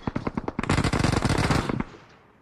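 Rapid automatic gunfire in PUBG, a fast run of loud close shots that swells into a dense sustained burst before cutting off abruptly.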